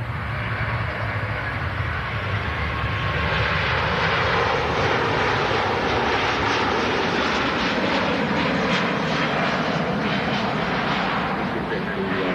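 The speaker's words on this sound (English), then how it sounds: "A350 departure from Singapore" Airbus A350 jet departing Singapore, a loud continuous broadband engine roar that holds steady throughout as the aircraft takes off, with voices talking faintly underneath.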